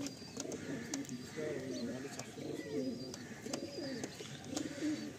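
Pigeons kept for sale coo repeatedly in soft, throaty rolling bursts, close by and under a faint voice in the background.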